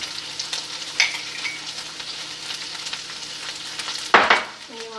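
Brown sugar being stirred into homemade sweet barbecue sauce, a steady sizzling bubble with a couple of spoon knocks and a loud scraping stir near the end, close and without talk.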